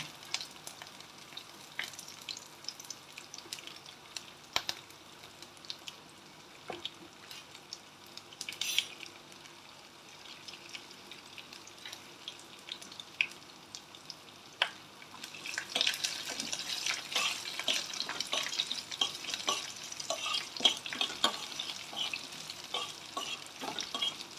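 Onions and ginger frying in a pan for a ridge gourd dal, a quiet steady sizzle with light stirring scrapes, growing louder and busier toward the end.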